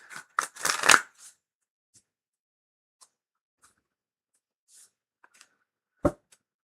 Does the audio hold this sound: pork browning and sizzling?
no